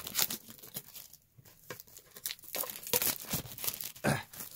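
Plastic and cardboard packaging of an EK7000 action camera being torn open, with bursts of ripping and crinkling in uneven rhythm, close and fairly quiet, without talk.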